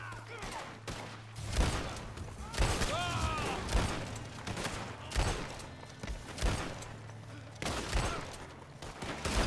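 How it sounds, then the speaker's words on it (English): Enemy gunfire in the Red Dead Redemption 2 video game, with repeated sharp shot bursts scattered across the clip over a steady low hum. Talk and game sounds run underneath. "those fools are shooting at me"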